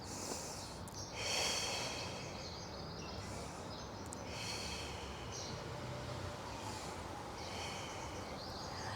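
Heavy breathing during a Pilates circuit, with several breathy exhales and snort-like puffs over quiet background hiss.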